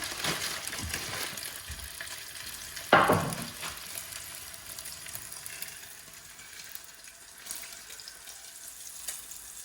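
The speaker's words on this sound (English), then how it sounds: "Now I'm going to put the bacon chop on the rind first because I love to get that bit a little bit crispy." Bacon chop laid rind-first into a hot oiled pan gives a steady, fairly quiet sizzle throughout, with one louder hiss and spatter burst near the start as it presses down, then fading back to a gentle fry.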